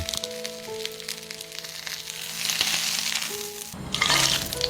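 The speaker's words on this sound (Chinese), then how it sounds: "锅里的猪油不要浪费，把青椒和鸡蛋煎出虎皮" Green peppers and eggs fry in pork lard; oil crackles and sizzles steadily in the pan, with sharp pops and a louder burst of hissing near the end.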